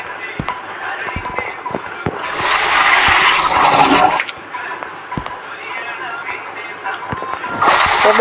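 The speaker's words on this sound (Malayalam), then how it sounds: "രക്ഷവരെ ടൂളായിട്ട് ഇതൊക്കെ കൊണ്ട് ഫ്ലഷ് അടിക്കണം." A toilet flushes in a prison escape video game, two loud rushing water bursts, one lasting about two seconds and another starting near the end, with someone talking over the game sounds.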